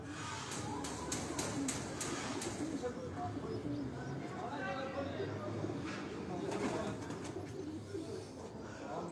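Caged pigeons of assorted breeds coo at a loft in Dhok Kala Khan, Rawalpindi, a steady soft murmur under continuous nearby talk, with scattered sharper clicks and background noise throughout.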